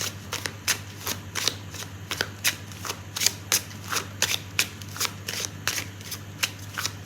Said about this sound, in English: Now I'm going to pull out a card to answer a yes or no question.